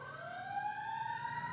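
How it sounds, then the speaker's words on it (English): Emergency vehicle sirens wail outside, a steady rising tone that carries faintly but clearly through the room with no talk over it. "Sorry about the sirens."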